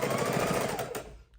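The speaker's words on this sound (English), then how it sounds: "we're going to go ahead and chain stitch these 4 blocks" A sewing machine runs steadily in a fast, even mechanical chatter as it chain stitches four quilt blocks with a quarter-inch seam, then stops abruptly near the end.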